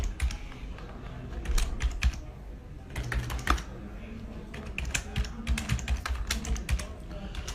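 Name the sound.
typing an email address on a computer keyboard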